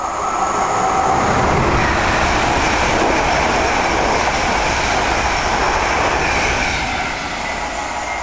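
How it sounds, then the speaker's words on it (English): Ex-Virgin Mark III passenger train rolling through Needham Market station on its way from Norwich to London, a loud, steady rumble of wheels and carriages sustained throughout with a faint easing near the end. "that was the ex-Virgin Mark III rake, on its way from Norwich to London"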